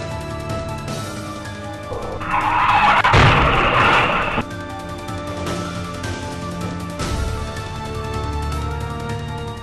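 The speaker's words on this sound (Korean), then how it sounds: "크게 신호기와 부딪힙니다" A loud crash as a car hits a traffic signal pole in a city street, with a burst of broadband noise midway, set against steady traffic hum, followed by a lingering rumble.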